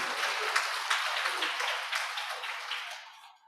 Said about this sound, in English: I thought we'll give Lagos a round of applause.